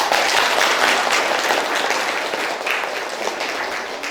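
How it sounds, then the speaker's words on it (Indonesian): Lively clapping from a university class after a student group presentation, loud at first and then slowly tapering off over a few seconds. "Tepuk tangan untuk kelompok 1."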